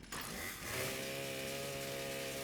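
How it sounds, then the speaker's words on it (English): A chainsaw idling in Fallout 76, a steady, droning engine hum that starts abruptly and holds a constant low buzz at moderate level with no talking. "the noise from the idling chainsaw"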